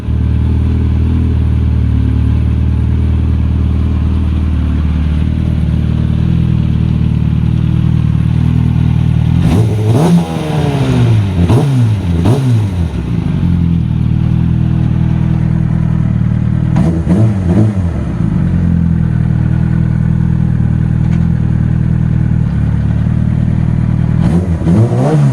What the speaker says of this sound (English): I'm going to test ride the bike because I got to make sure everything's okay with it